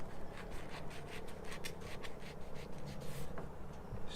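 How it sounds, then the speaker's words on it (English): A knife slices through a pineapple, giving repeated scraping, rasping strokes of the blade against the fibrous fruit, close and fairly loud, with no talking. "You don't want to cut the skin off the pineapple. And then you cut in the middle."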